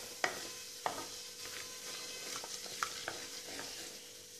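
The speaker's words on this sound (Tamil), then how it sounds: "சோம்பு எல்லாம் நல்லா பொரிஞ்சிருச்சு" Fennel seeds frying in oil in a pan, a soft steady sizzle broken by a few sharp pops and light stirring scrapes, quiet and close.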